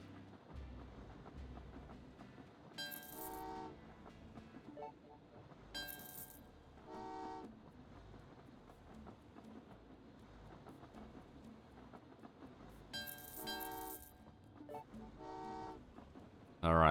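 Trains in the video game Train Valley 2 chug along under background game music, sounding several bright horn toots in pairs spaced across the stretch, with a steady rumbling bed beneath.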